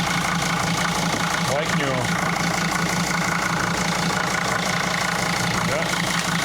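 Diesel engine of an ex-fire-truck Mercedes Sprinter van idles steadily after new glow plugs were fitted, a continuous low rumble running the whole time with a person speaking briefly over it.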